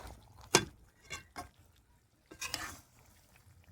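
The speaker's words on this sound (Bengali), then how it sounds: "যেহেতু উনুনের আঁচটা কমানো যায়নি, ওই কারণে ঘন ঘন মাংসটাকে নেড়ে দেবো আমি।" Chicken meat frying in a pan over a high flame gets quick stirs: a few sharp scrapes and clinks of the utensil stand out over a faint, low sizzle, close and without talk.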